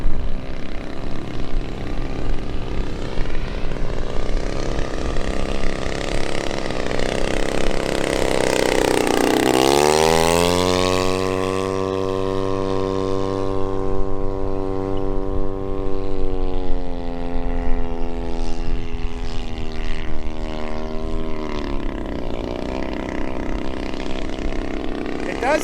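A 50cc Maxford USA Antonov An-2 radio-control model biplane from Gator-RC drones steadily in flight, its propeller engine note rising and swelling as it passes near, then holding a strong, buzzing tone.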